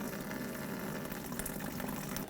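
Washer fluid drains out of the washer tank of a 2013-2018 Hyundai Santa Fe as a steady, close, hissing trickle and gush of liquid. It runs continuously with no pauses and no talking.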